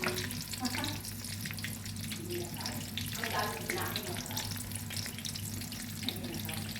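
Sliced eggplant fries in a pan of oil, giving a continuous crackling sizzle with a watery hiss. Faint voices murmur underneath.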